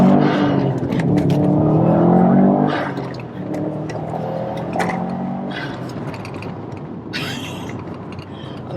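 A JDM bugeye Subaru Impreza STI Ltd pulls away, its engine note building loud and close through the first few seconds, then easing into a steadier drone with road and cabin noise.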